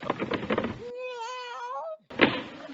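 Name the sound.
desk drawer being opened, radio drama effect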